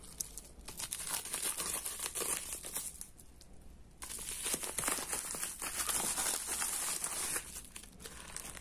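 Crinkling plastic packaging being handled and torn open, a continuous close rustle with brief pauses and louder bursts.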